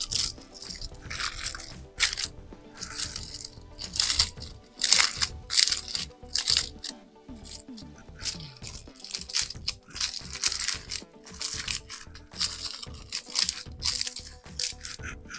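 Foil being folded over at the edges of a makeshift roasting tray, a continuous close crinkling and crunching with sharp crumpling bursts throughout, no talking.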